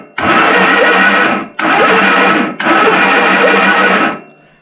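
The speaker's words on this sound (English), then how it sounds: "It's like when you turn it on and it starts cranking, and when you let it off is when it gets spark." A motorcycle engine on an XS2 project bike cranks over in three long bursts of steady, loud whirring, each separated by a brief pause, with no voices.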